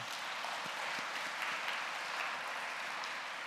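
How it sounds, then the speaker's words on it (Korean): A church congregation claps in encouragement during a worship service, a steady, dense wash of many hands held at an even level for several seconds, fairly distant and with no voices over it. "이 2명의 청년에게, 일어서고 있는 이 청년에게 한번 격려의 박수 한번 올려드리지 않겠습니까?"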